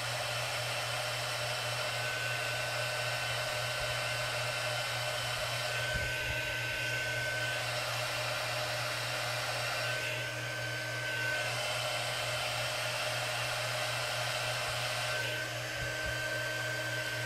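An embossing heat gun blows continuously at close range, a steady droning whoosh with a low hum that barely changes, small shifts in tone as it is moved around, and no speech.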